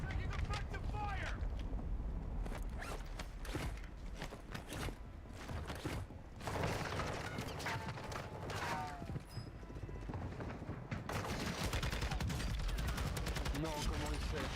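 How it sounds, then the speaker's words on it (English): Call of Duty Warzone gunfire rattles in repeated sharp cracks and bursts that come and go across the battlefield, mixed with whooshes and speech. "Taking effective fire!"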